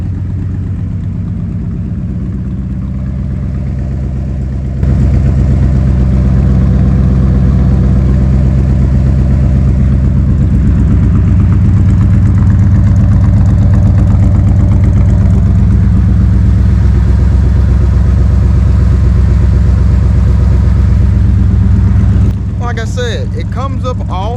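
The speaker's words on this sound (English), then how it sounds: "Listen to that exhaust note." A deep, steady engine idle from a 1972 Dodge D100 pickup with a bolt-on exhaust kit rumbles on and on with a low, throaty exhaust note, close and fairly loud, with a brief clatter near the end.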